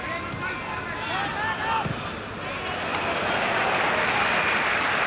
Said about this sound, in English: Just applause for that.